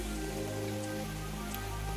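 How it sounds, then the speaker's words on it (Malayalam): Heavy rain falling during a rainy day beside a pond and well, a steady dense patter on surfaces throughout, with a low hum underneath and no voices. "നല്ല മഴ പെയ്തുകൊണ്ടാണ്."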